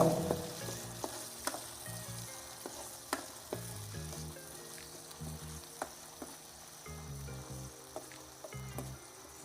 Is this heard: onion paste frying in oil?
yes